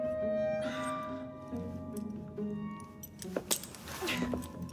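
Keys jangling in the Assassin's Creed Syndicate video game, a few light metallic clinks and rattles near the end, over quiet background tones.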